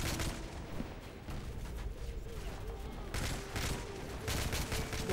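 Gunfire in the video game Call of Duty: Modern Warfare 3, with dense, continuous volleys of shots and bursts over rumbling battle noise, loud and close, intensifying toward the end.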